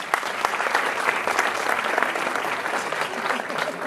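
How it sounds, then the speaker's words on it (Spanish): A crowd applauds steadily throughout, dense and continuous clapping from an audience after a participant presents a Mesoamerican jaguar-themed creation, with no speech over it. "Me encanta, aplausos."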